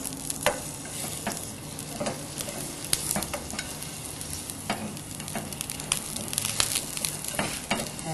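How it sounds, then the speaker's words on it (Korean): Salted cucumber lightly stir-fried in a little oil in a pan, a close, steady sizzle with frequent quick scraping and tapping strokes of the spatula throughout, no voices. "여기 아까 절여 놓았던 오이를 살짝 볶아주세요"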